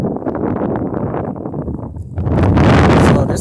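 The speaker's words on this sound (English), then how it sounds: "And the wind really don't help." Strong wind buffets the microphone outdoors while someone rides a Hoover board, a steady low rumble that swells louder in the final second.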